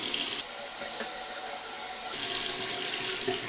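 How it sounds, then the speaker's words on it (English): Water running from a bathroom tap into a sink, a steady close hiss of flowing water that holds evenly for several seconds with slight changes in tone as the stream shifts. "Let me get my water running."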